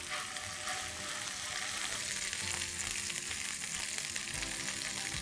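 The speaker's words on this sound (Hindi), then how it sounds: "फिश को इसलिए फ्राई करते हैं ताकि ग्रेवी में हमारी फिश टूट ना जाए।" Fish sizzling and frying steadily in hot oil in a pan, a continuous loud crackling hiss with no breaks and no talk, for a Bengali-style fish bhuna masala.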